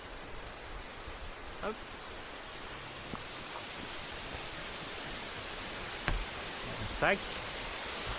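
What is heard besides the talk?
Sillans waterfall (cascade de Sillans) flowing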